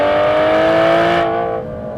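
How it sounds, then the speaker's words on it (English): Aston Martin Vanquish V12 engine revving hard after a downshift, a loud, close, rich, sustained howl that rises and then drops off as the revs fall. "there is nothing like the sound of a V12"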